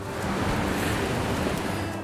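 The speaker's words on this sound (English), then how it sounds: "Honestly, really enjoyable waterfall from up here as well." A waterfall in the Columbia River Gorge rushes in a steady, dense roar, broad and continuous with no pauses, heard from above the falls.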